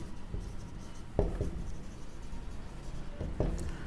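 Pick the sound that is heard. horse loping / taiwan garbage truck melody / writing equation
writing equation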